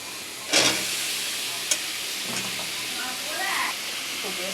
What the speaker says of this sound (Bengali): হালকা করে মাছটা ভাজা নিচ্ছি।